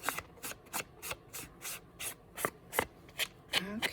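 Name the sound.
rubbing gilded leafing onto a handmade card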